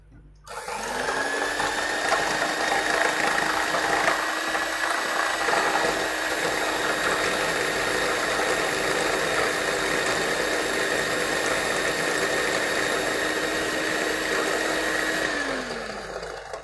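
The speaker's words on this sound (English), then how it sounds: "The trick here is the blender that you have, remove one blade." A blender with one blade removed whirs steadily while whipping coffee, a loud sustained motor whine with harmonic tones that holds for about fifteen seconds before spinning down.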